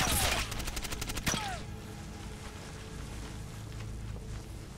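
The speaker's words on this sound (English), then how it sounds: "I hear gunshots." Gunfire in the video game Ghost Recon Advanced Warfighter 2: a loud burst of rapid, repeated shots at the start, then a single sharp report, fading into low rumbling game ambience.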